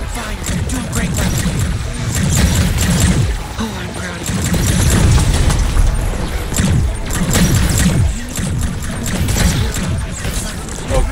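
A weapon fires repeatedly in the video game High on Life, with loud, heavy bursts in a rough rhythm and crashing impacts, while a voice speaks over the shooting.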